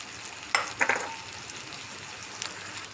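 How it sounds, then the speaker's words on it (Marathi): Onion sizzling in hot oil in a pan while cooking, a steady soft frying hiss with a few sharp clinks of a spoon against the pot. "कांदा तेलात परतून घेते."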